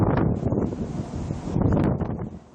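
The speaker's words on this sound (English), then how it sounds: "It is pretty breezy out here." Strong gusty wind from a severe storm, gusting up to 40 or 50 miles an hour, buffets the microphone with loud, surging roars that rise and fall across the whole stretch, with no talking.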